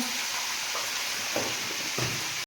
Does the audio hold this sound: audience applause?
no